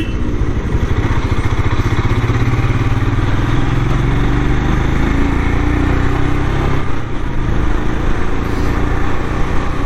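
Royal Enfield Scram 411 motorcycle ridden through city streets, its engine droning steadily and loudly throughout with a constant low rumble and wind roar, no talk heard.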